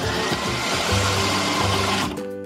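Electric mixer whirring as it mixes dough in a cartoon cleaning video game, a steady loud motorized hum with a rhythmic pulsing underneath, cutting off near the end.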